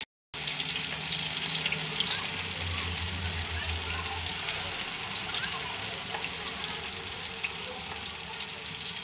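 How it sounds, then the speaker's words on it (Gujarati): Kabuli chickpeas deep-frying in hot oil until crisp and crunchy, a steady broadband hiss and crackle running continuously at moderate level after a brief silent start, with a low hum underneath. "કાબુલી ચણા તળાઈને મસ્ત ક્રિસ્પી ક્રન્ચી થઈ ગયા છે"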